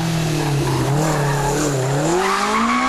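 A Caterham sports car climbs the Wiscombe hill climb course, its engine note loud and close as it rises steadily in pitch under acceleration, with tire noise along a continuous, full-throttle run.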